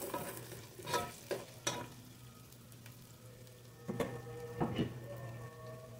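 Onion sautéing in a pot for pompano sinigang makes a faint, low sizzle broken by several distinct stirring scrapes and clatters of a utensil against the pot.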